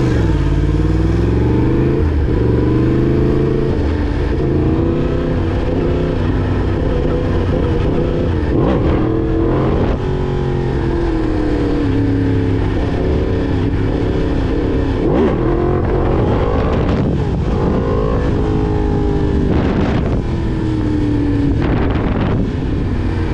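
Honda Fireblade 1000cc motorcycle engine revving and accelerating hard for a long stretch, a loud continuous roar with rising and falling pitch sweeps, mixed with heavy wind rush across the microphone.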